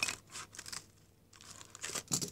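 Someone cuts along the sides of paper close up, making a run of crisp snipping and rustling bursts with a short pause in the middle.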